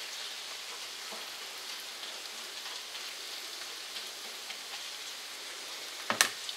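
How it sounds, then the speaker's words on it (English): Curry ingredients frying in a pan give a steady, soft sizzle and crackle, like light rain, running unbroken with no talk, ending in one sharp clatter near the close. "Let that fry a little while."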